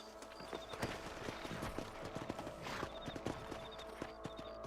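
Horses gallop in the Red Dead Redemption game on Xbox 360, a steady clip-clop of hooves running through the whole stretch with a brief whinny-like tone and game ambience, no talk over it.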